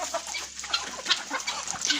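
Chickens and a rooster in a Romanian backyard flock cluck and squawk close by in short, overlapping bursts, fairly faint but busy throughout.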